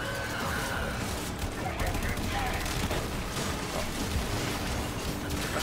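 Rapid bursts of gunfire crackle continuously over a dense, busy soundscape in the Warframe 1999 demo, with a voice talking underneath.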